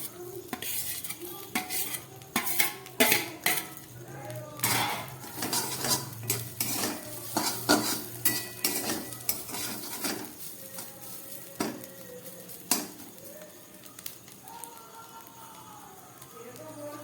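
Vegetables are stirred into a pan with fried coconut and grated paneer for flattened rice pulao, a spoon scraping and clattering against the metal in irregular strokes over a soft sizzle, close and steady.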